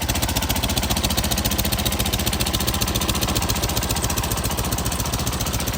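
A two-man earth auger's small gas engine running steadily at a fast, even idle, a loud close buzzing putter with a rapid regular pulse and no talking.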